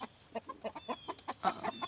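Polish chickens clucking in a backyard flock, a steady run of about a dozen short, soft clucks in quick rhythm, faint and moderately close, with no talking.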